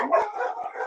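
A pet dog gives a short, fairly close howling bark, a single drawn-out yelp lasting under a second with no talk over it.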